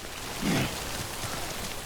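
Steady rain falling in Death Stranding, a continuous hiss of drops on surfaces with one brief louder patter near the start, heard alone without talk.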